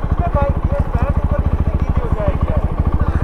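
A motorcycle engine putters at a steady, rapid rhythm while the bike crosses a river offroad. The engine is loud and close, with a voice talking over it.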